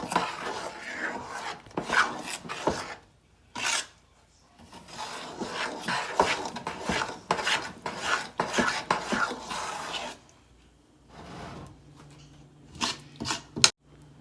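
Idada batter is mixed by hand in a bowl, with close, irregular rubbing and scraping strokes in bursts and short quiet pauses between them.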